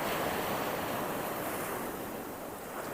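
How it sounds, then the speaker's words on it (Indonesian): Ocean waves surging onto an eroding beach where fallen trees lie, a continuous loud wash of surf mixed with wind buffeting the microphone, no voices. "di seputar sini agak besar gelombangnya"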